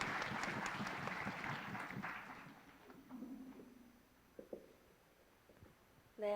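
A student audience at a university event claps for a student speaker, a brisk burst of applause that fades out after about three seconds, leaving quiet room noise with a few faint knocks.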